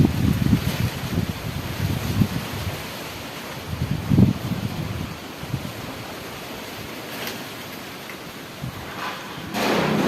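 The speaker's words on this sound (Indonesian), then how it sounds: "Waspada lur, angin banter banget lur." Strong gusts of wind roar in Gunungkidul near a village school, a loud, rough, continuous rush that surges and fades in waves, with occasional rattles of loose sheeting and no talking.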